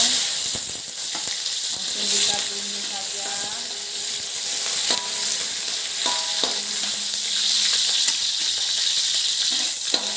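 Torn kaffir lime leaves and chopped lemongrass sizzle and fry steadily in hot oil in a pan, a constant bright crackle with occasional stirring clinks, close and loud, no talking.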